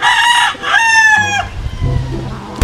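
A rooster crows loudly and close by at a gamefarm, followed by low clucking from other chickens, with no one speaking.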